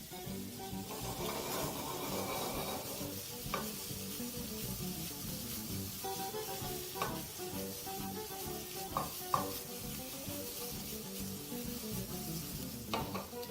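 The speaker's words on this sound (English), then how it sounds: "proceed to toss your pan, mixing everything together. And just allow your pan to continue at high heat" Shrimp and rice sizzle over high heat in a tossed pan, a continuous close frying hiss with occasional clinks and scrapes as the contents are mixed.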